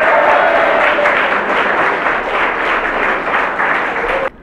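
A Tamil television debate-show audience breaks into loud, steady applause that fills the hall as a poet is welcomed on stage, sustained for about four seconds before cutting off abruptly.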